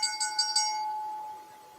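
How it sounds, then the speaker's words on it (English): A ring bell clangs several quick times at the end of a professional wrestling match, its bright metallic tone ringing out and slowly decaying alone. "Ring the bell."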